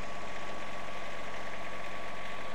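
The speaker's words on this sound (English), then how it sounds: "turn the key to start and hold until the engine starts" Wacker light tower engine idling steadily, a loud, continuous droning rumble with even vibration throughout and no voices.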